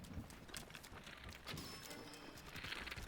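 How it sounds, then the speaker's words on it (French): Horses gallop in The Legend of Zelda: Breath of the Wild, a quick run of faint clip-clop hoofbeats with game effects over them and no talk. "Là, ils sont à cheval."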